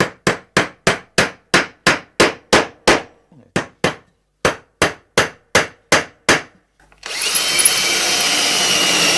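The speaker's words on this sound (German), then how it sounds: "Den Dübel, den hauen wir jetzt da langsam vorsichtig rein." Hammer strikes driving a glued wooden dowel into a homemade table hockey game, about sixteen sharp, evenly spaced blows in a steady rhythm with a short pause, then a sustained broadband rush takes over near the end.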